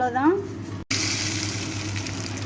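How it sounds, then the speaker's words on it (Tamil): Tempering is poured into ground pirandai chutney, giving a sharp sizzle that sets off a steady frying hiss lasting the rest of the moment, with a brief cut in the middle. "இப்போ இதை நம்ம தாளித்து ஊற்றிடுவோம்."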